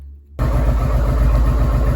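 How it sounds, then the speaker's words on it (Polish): A Honda Transalp 650 motorcycle engine fires up after a brief quiet moment and settles into a steady, loud, close idle with an even low throb. "zapalam silnik i będę sprawdzał, czy się te wskazania poprawiają"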